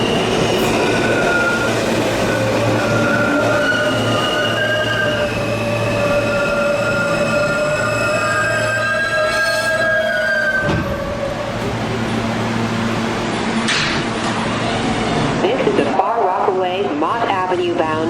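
R160 New York City subway train on the A Express line runs loudly with a constant rumble, squealing wheels and clickety-clack, while an automated announcement plays over the noise and the train grinds and slows near the end.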